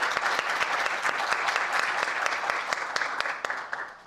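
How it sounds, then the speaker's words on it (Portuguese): Applause from an audience at an academic extension event welcoming Lieutenant Almeida, a dense, steady clatter of many hands clapping for about four seconds, fading slightly at the end. "Vamos bater palmas para o Tenente Almeida"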